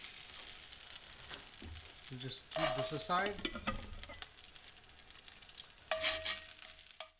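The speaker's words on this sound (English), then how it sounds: "the next thing is to fry the chilies. So we're not cooking it for too long, we're just" Chilies stir-frying in a hot pan for Afghan eggplant, with bursts of sizzling and frying alongside stirring scrapes near the mic, while a voice speaks briefly.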